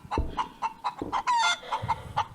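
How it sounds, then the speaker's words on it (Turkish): Chicken in the space survival game Breathedge clucking in quick, close, rhythmic bursts, with one longer squawk in the middle, clear and alone. "Tabii ki de gerçek bir tavuk."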